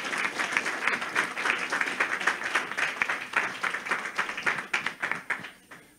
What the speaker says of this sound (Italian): un applauso per Saimir